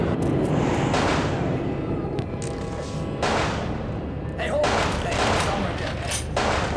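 Gunfire in the video game Vampire The Masquerade Bloodlines: dense, rapid bursts of shots and booming blasts that come in repeated waves, loud and close, with voices faintly mixed in.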